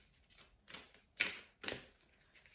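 A tarot card is pulled from the deck in a few quiet, crisp papery flicks and slides, four short close bursts spaced about half a second apart.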